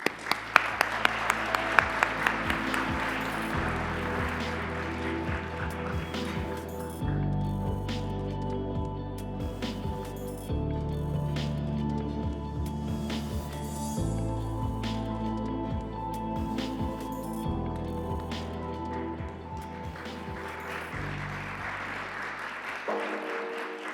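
An audience at an awards event honoring influential women breaks into sustained applause, a loud dense wash of clapping that holds steady for the whole stretch with a few sharper claps near the start.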